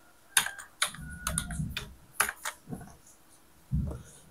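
Keyboard shortcuts tapped on a computer keyboard in Microsoft Word, several sharp separate key clicks and a few soft thuds with uneven gaps, close and quiet with no talking.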